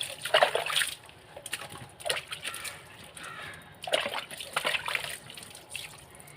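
Splashing and sloshing water while a plastic bucket and an iron kadai are washed, in uneven bursts with quieter gaps between them, fairly close and with no talk over it.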